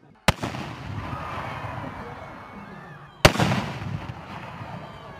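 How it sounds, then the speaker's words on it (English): Two sharp fireworks bangs go off at an outdoor Bonfire Night celebration in Edenbridge, a few seconds apart, each followed by a crackling, fading rumble in the open air. "round two of the fireworks"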